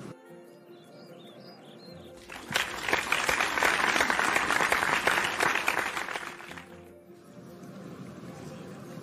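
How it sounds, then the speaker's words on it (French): Guests in an animation applaud a man's homecoming: a burst of clapping swells, holds for several seconds and fades, with faint bird chirps before and after. "Il fut accueilli chez lui par des applaudissements,"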